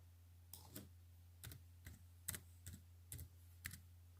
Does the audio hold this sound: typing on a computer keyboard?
yes